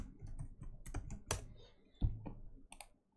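Keys clack on a computer keyboard while a login is entered on a Windows Server 2019 machine, with a quick run of separate close taps and a firmer keystroke near the middle, fairly quiet.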